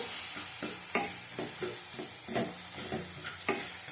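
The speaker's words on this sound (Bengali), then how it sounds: "ভালো করে কষিয়ে নেব।" Spices with turmeric and Kashmiri chili powder sautéing in a pan, a continuous close sizzle with rhythmic scraping stirs every half second or so, no voices.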